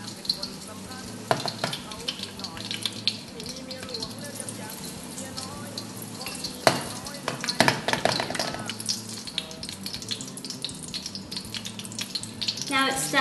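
A Thai omelette fries in hot oil in a pan, a steady close crackling sizzle with scattered louder spits and pops throughout, no talking.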